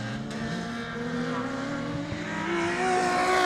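Rallycross race cars at Lydden Hill, including a Ford, roar past with engines rising in pitch through the gears, loud and steady with overlapping motors.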